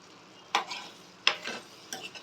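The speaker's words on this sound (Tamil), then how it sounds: "இந்த முட்டை கொஞ்சம் வெந்தோடனே கொஞ்சம் கொஞ்சமாக இதை மிக்ஸ் பண்ணிடுங்க" Egg stirred into a ridge gourd stir-fry in a pan, giving three separate bursts of scraping and stirring over a faint, steady sizzle, close and fairly quiet.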